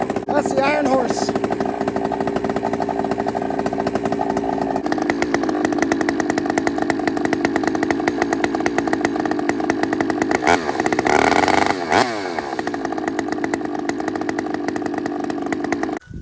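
A chainsaw roars nearby cutting wood, its engine revving up and down as it cuts, loud and continuous throughout.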